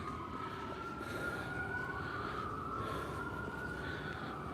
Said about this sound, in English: So the ambulances that you're hearing that are fairly close are on the 79th